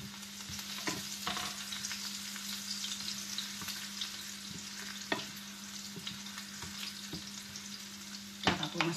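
Garlic fries in the oil left over from frying meatballs (albondigas), giving a soft, continuous sizzle with occasional stirring taps and a low steady hum behind it, and no voices.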